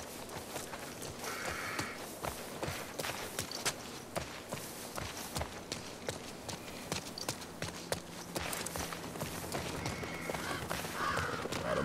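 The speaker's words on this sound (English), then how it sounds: "Birds flying like that." Crows caw and flap amid video game ambience from The Last of Us Part II, with steady footstep-like clip-clops and scattered wingbeats throughout at moderate level.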